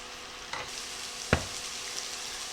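Peppers and onions hit hot oil and butter in a pan, giving a steady soft sizzle with two sharp spatter pops, one near the start and a louder one midway.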